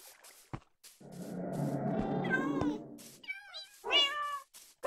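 A cat in the video game Minecraft meows several times in quick succession, clear and close, with short drawn-out and rising calls separated by brief pauses.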